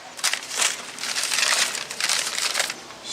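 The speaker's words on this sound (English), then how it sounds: "individually wrapped brake pads. Unwrap all of these" Individually wrapped brake pads for a 2018 Jeep Wrangler Unlimited Sport front brake job are being unwrapped, with close crinkling and crumpling packaging in several bursts, no talking.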